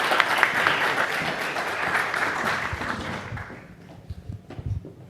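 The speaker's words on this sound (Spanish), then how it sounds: "Así que dejo con un fuerte aplauso a esta mesa de directores." Audience applause for a board of directors at an internal audit institute event in Chile: a dense, steady round of clapping from a sizable crowd, which then fades out and leaves a few scattered low thumps and some faint voices.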